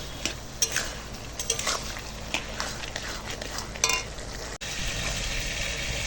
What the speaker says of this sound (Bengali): এখন আদা জিরে বাটাটা দিয়ে দেব দিয়ে ভালো করে একটু লাউটাকে কষিয়ে নেবো